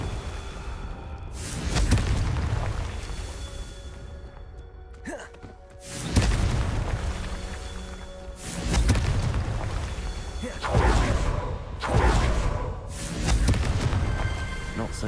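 A blasting fire spell in Hogwarts Legacy sets off several deep booming explosions with whooshing bursts, spread across the stretch amid game sounds, while a voice calls out once.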